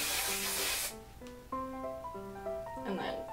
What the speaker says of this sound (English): So now I'm going to spray.